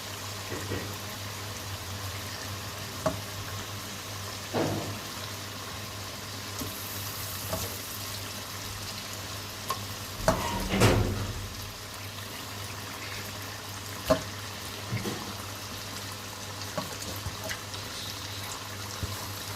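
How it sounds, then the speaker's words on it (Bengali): Beef pieces frying in a pan with chili powder, cardamom and cinnamon, a steady low sizzle broken by occasional stirring scrapes, one louder burst of sizzle midway. "এখন মাংসগুলো দিয়ে ভালো করে কষাবো"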